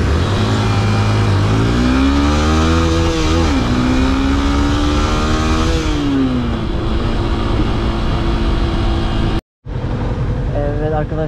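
A Yamaha FZS motorcycle ridden through Taiwan city streets at night revs and accelerates loudly up close, its engine pitch climbing through gear changes and falling back, with a brief cutout near the end.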